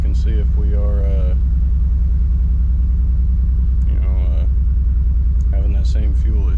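A Nissan Z drift car engine runs at a low, throbbing idle with a steady rumble, loud and close, while someone talks over it at intervals.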